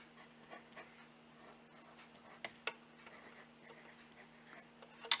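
Handwriting on paper during a multiplication lesson makes faint, soft scratching strokes with a few sharper taps, quiet and close with no talking.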